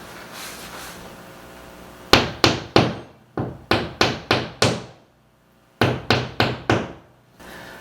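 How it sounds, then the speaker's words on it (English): A hammer lightly taps medal hanger fixings into a wall, giving about a dozen crisp, close knocks in short even runs of three to five taps, with brief pauses between runs. "I'm going to use the hammer to tap them in"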